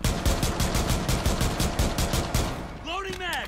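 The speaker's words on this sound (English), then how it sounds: "He's shooting." Rapid automatic gunfire from a World War II video game rattles in a fast steady burst for over two seconds, then stops as a voice speaks over the game sound.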